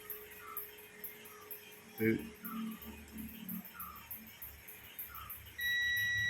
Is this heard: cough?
no